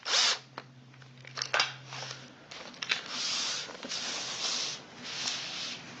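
A small power driver whirs in short bursts as it screws a hanger into the back of a wooden picture frame, with brief clicks and handling taps between the runs, close up and with no talking.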